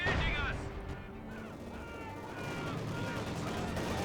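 An anti-tank gun fires in the strategy game Company of Heroes 2, its heavy booming shots blending into dense, continuous battlefield noise.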